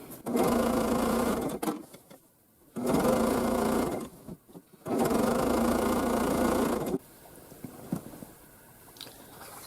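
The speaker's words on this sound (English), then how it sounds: "Now I can just finish stitching on my binding." Sewing machine stitching binding onto a quilt, running in three steady bursts of about two seconds each with short pauses between, then quieter handling sounds at the end.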